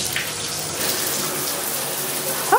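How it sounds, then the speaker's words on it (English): Shower running in an apartment bathroom during a water pressure check, a steady loud hissing spray of water that stays constant throughout, close to the listener. "Beautiful shower. I want to see what the pressure look like"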